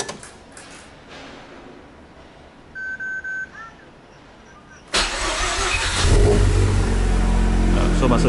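A Mazda RX-8 rotary engine is hot-started on Aero 95 fuel: quiet cranking and a few short electronic beeps, then the engine catches abruptly and settles into a loud, rough rotary idle that swells slightly toward the end.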